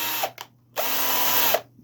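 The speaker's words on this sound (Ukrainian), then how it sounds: "І зараз я хочу просверлити отвори для а, ну, для нормальної посадки е, шурупів" A power drill bores pilot holes for screws in a bass guitar body: two short whirring bursts, then a longer steady whine lasting nearly a second before cutting off, close and loud.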